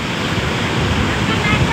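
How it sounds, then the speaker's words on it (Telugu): Big ocean waves break at RK Beach in Visakhapatnam, a loud, continuous rushing wash of surf mixed with wind noise against the microphone. "బాగా అలలు వస్తున్నాయి పెద్ద పెద్దగా"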